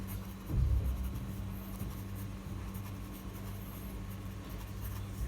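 Chalk or marker writing on a board while a class 10 maths problem is solved, a soft steady scratching and rubbing run with a louder stroke near the start.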